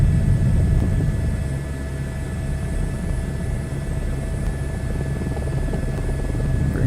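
A helicopter hovering in Microsoft Flight Simulator 2024, a loud, steady rotor and engine drone that holds continuously without a break.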